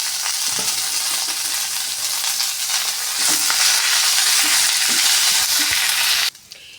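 Vallarai greens and tamarind frying in a pan for chutney, a steady loud sizzle with occasional soft stirring knocks, ending abruptly as the sizzle drops away.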